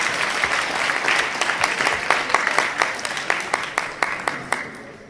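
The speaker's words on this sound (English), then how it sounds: "let's give a round of applause for all of our contestants for the first round." A crowd applauds steadily for several seconds, with louder individual claps standing out near the end.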